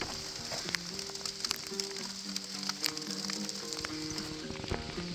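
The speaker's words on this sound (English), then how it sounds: "It starts hailing, like." Hail coming down outdoors in cold weather during a fishing trip, a dense steady patter and crackle of stones hitting nearby surfaces, continuous and fairly loud throughout with no talking.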